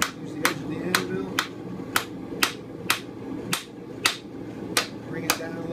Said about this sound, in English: Hammer it from the opposite side.